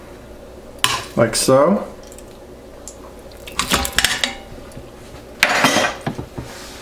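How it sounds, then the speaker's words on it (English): Pieces of meat are dropped into a metal pressure cooker pot, three separate clattering bursts of clanks and scrapes of metal, with someone speaking briefly between them. "we'll go ahead and place this meat into the pressure cooker"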